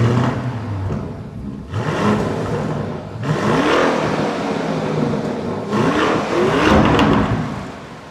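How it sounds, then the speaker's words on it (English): A twin-turbo V8 in a Lamborghini Urus revs hard in several loud, close surges, its roar swelling and easing between bursts with no talking. "I want to take this thing for a drive and listen to that twin turbo V8."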